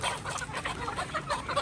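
Chickens being harvested on a Filipino farm cluck in a dense, continuous flock chatter, several birds close by with overlapping calls and an occasional louder squawk.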